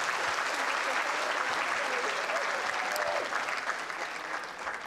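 An audience at a children's storytelling event applauds loudly, a dense, continuous burst of clapping that tapers slightly toward the end.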